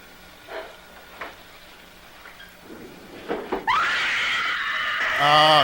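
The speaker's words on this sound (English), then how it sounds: "Oh, again with the screaming." Screaming in a horror film: several faint stirs and thumps build to a sudden loud, sustained scream that rises in pitch at the end.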